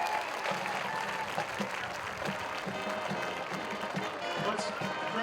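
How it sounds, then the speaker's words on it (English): Crowd applause at a high school football game, steady clapping from the stands with a murmur of voices and low rumbling underneath. "Let's have a nice round of applause for Coach Ben Hubbard."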